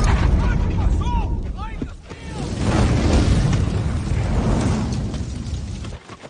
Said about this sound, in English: Things exploding.